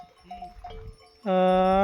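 Native Gavran cows in a Vidarbha village: a voice talks briefly, then a loud, sustained, tonal moo rises abruptly and holds steady to the end.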